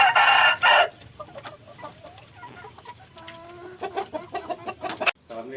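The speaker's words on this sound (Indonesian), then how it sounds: "kita akan melihat kandang ayam atau peliharaan ayam kampung yang dilakukan oleh Pak Dianto." Kampung chickens in a backyard coop: a loud burst of clucking and squawking opens, followed by softer scattered clucks, short calls and rustling near the microphone, with a sharp closing squawk.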